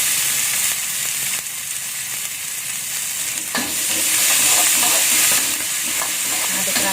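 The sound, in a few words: stirring red chili, garlic and bell pepper frying in a pan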